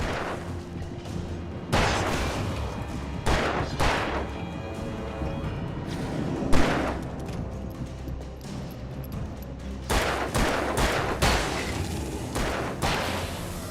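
Flares and grenades go off in the horror action game Alan Wake Remastered, several heavy booming blasts and crashes at irregular intervals over a continuous rumbling bed, loud and close, with little talk.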